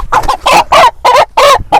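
A fighting rooster clucks loudly up close in a quick series of about six sharp, throaty calls with short gaps between them.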